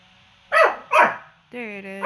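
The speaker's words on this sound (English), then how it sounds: "And my dog is barking at the lawnmower thing" Two sharp dog barks in a Minecraft-style game, close and loud, about half a second apart, followed by a sustained harmonic whine or growl-like tone.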